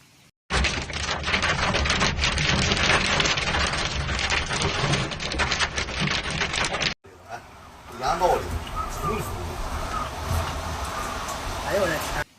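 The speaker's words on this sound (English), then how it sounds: "quite large hailstones fell in a relatively short period of time" A heavy hailstorm in Hebei, China, with large hailstones falling over a short time, makes a dense, loud, continuous roar of pelting ice. It stops abruptly and gives way to a thinner patter with scattered knocks and background noise.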